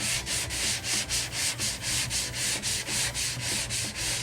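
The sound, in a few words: sanding primer on a car body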